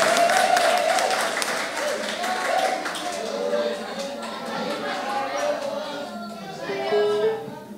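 Applause from a church congregation rattles on under the talking, loud at first and then easing while a voice keeps going over it.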